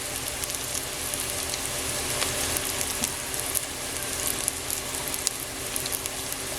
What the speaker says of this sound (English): So this is the mustard seed, and we're going to use 1 teaspoon. Watch them crackle and pop.